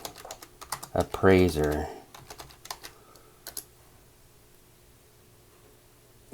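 Rapid clicking of a computer keyboard as someone types an online search, scattered keystrokes around a brief spoken word, then a few isolated taps trailing off into quiet.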